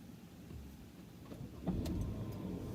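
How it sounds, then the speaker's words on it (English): A car engine starting up inside the vehicle, a low rumble rising after a faint click and whir, fairly quiet and with no speech. "I'm starting up the car anyway"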